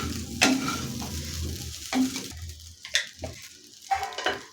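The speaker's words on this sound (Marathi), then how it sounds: "हे आधी आपण मीठ आणि साखर घातलेली आहे ते असं हलवून मिक्स करायची" Sabudana khichdi seasoned with salt and sugar is stirred in a pan over low heat, with a soft sizzle underneath and several distinct scraping strokes of the spoon spaced about a second apart.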